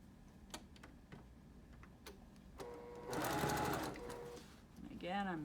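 A sewing machine stitches quarter-inch quilt seams, starting with scattered ticking needle strokes and then running in a steady buzzing stretch. A voice talks around the stitching.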